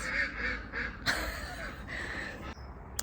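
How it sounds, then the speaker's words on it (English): Ducks next door to a vegetable allotment plot quack loudly in quick repeated bursts, a nasal chorus sounding near and carrying on for several seconds. "That's the ducks next door."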